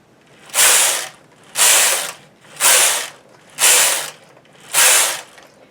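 Knitting machine carriage pushed back and forth across the needle bed knitting ribbing rows, five evenly spaced loud clattering, ratcheting sweeps with short quiet pauses between them, close up and with no talking.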